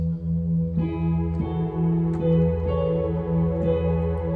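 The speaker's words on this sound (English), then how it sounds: "Hear how it's mushing all those notes together?" Piano notes ring together into a blurred wash, each new note piling onto the sustained ones before them, steady and moderately quiet with no voices.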